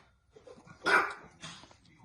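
A dog gives two quick barks, the first louder and sharper, the second softer, against a quiet background.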